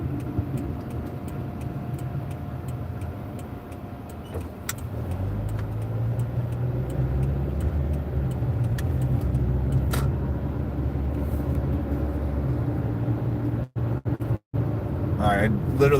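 A car drives steadily through a residential neighborhood, its low engine and road rumble continuous and close from inside the cabin, with faint ticking throughout and a brief dropout near the end.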